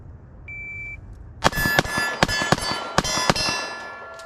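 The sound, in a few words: Glock 26 pistol firing a string of shots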